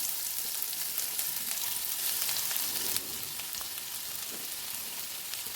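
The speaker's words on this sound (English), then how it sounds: "Heat a teaspoon of vegetable oil and add in sliced onion." Thinly sliced onions, two medium ones, frying in a teaspoon of vegetable oil, giving a steady, even sizzle that holds close and constant throughout with no voices.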